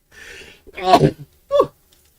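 A single sharp sneeze up close, a breathy intake followed by the burst, then a short vocal sound afterward.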